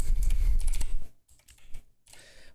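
Someone types quickly on a computer keyboard at close range, a dense burst of sharp clicking keystrokes followed by a few sparser taps and a short final flurry, with no talking.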